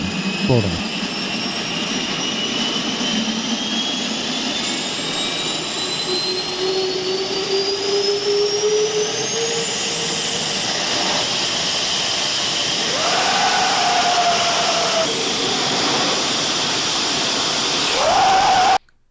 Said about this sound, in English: the air compressor got up its pressure, and now it's blowing its air into a turbine here